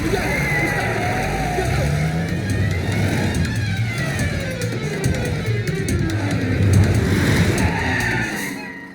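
A car engine in a comic film scene strains and revs continuously with a rough, skidding roar, while voices talk over it throughout.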